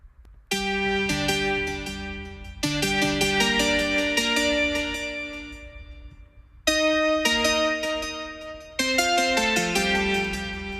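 A bright, buzzy synthesizer lead plays a melody in sustained phrases, rich in harmonics, with clear pauses between groups of notes.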